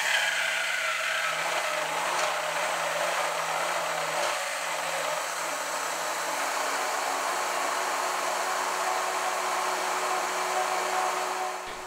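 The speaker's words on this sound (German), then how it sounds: "Mit dem Pürierer pürieren wir das Ganze dann richtig schön cremig." An immersion blender purees hollandaise sauce in a steady, high motor whine that holds for about twelve seconds without voices, with a slight wobble in pitch early on and a cut-off at the end.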